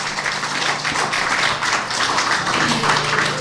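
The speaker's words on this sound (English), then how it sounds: "let's give another warm, rousing applause for the Cambridge Community Chorus" A community audience at an MLK Day gathering in Cambridge gives the Cambridge Community Chorus a warm round of applause, loud and continuous clapping from many hands filling the hall throughout.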